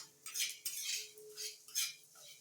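Coriander seeds roasting in a pan are stirred with a utensil, giving soft rhythmic scraping and rattling strokes in several bursts, fairly faint and close, with no talk.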